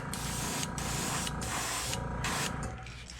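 A blow dryer drying paint on a fishing lure blows a loud, steady airy roar close by, briefly dipping a few times before easing off near the end.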